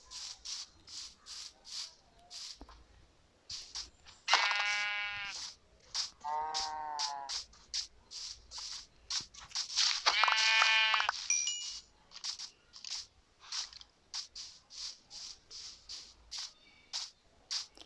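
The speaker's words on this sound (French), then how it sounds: "Ah, un mouton." Sheep bleating in a video game, several distinct bleats at varied pitch standing out over a steady run of rhythmic clicking or footstep-like game sounds, with no talk.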